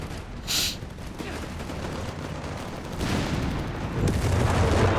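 Strafing-run gunfire in Company of Heroes 3, a sustained dense rumble of rapid shots and booms that swells louder toward the end, with no talk.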